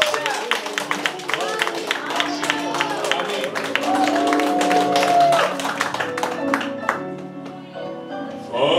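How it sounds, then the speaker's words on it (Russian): A church congregation claps for the priest, with scattered claps over singing voices and a murmuring crowd. The sound is moderately loud and uneven and tapers off toward the end. "Аплодисменты Отцу."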